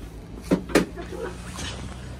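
Automatic public toilet door opening after a button press, heard as two sharp mechanical clunks close together followed by a faint motor hum, with low background noise and no speech.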